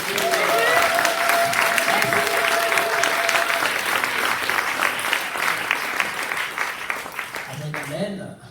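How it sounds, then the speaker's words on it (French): A church congregation bursts into loud, close applause and cheering, steady clapping and shouts for the whole stretch, easing off near the end. "est-ce qu'on peut acclamer pour le Seigneur?"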